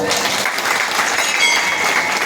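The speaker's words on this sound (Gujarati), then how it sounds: "એ બધાને ખૂબ ખૂબ તાળીથી વધાવો" Audience applause greeting donors at an Ashadhi Bij devotional gathering for Ramdev Pir, a dense, steady wash of many hands clapping throughout, close and fairly loud with no talk over it.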